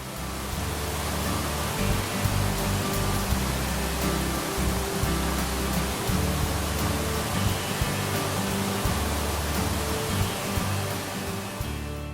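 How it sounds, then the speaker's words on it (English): Cove Creek Falls, a multi-tiered cascade with two distinct levels, roars as a steady, dense wash of falling water heard close and loud throughout, with no voices over it. "Cove Creek Falls is a multi-tiered cascade with 2 very distinct levels."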